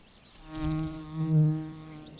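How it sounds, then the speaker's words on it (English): A yellow-winged sphex digger wasp flying over heath, its close droning buzz rising and falling in loudness as it passes. "the yellow-winged sphex, is a true digger wasp"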